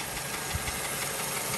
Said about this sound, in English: as the engine is idling away